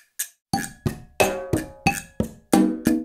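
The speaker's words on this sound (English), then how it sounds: "next let's record the guiro, which sounds like this" A guiro plays a short rhythmic pattern of sharp scraped strokes, about ten crisp hits with bright, rasping tails, close and clear with no voices.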